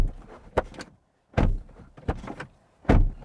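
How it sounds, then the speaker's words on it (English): Door of a Lamborghini Huracan STO slammed shut several times, each a solid, close thunk with a short rattle, separated by quieter handling of the door. "And our door slam test."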